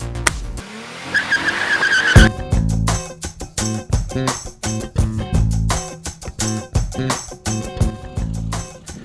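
A Subaru BRZ Limited sports coupe with a 6-speed manual launches hard from a standstill toward 60 mph, its engine revving in rising bursts between gear changes and its tires squealing, close and loud.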